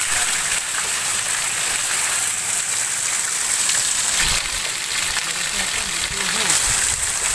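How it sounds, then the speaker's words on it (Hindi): Rain falling heavily on a roadside, a steady dense hiss of water that lasts throughout with no pauses. "रास्ता में देखियो पानी पड़ रहा है एकदम एते पानी पड़ रहा है।"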